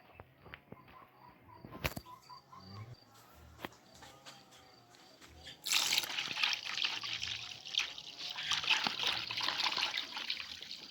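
Water is poured from a cup into a 12-litre garden bucket, a steady splashing trickle that grows louder and fuller partway through, with faint clicks and handling noises before it.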